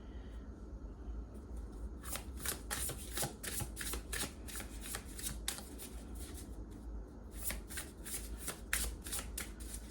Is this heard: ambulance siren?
no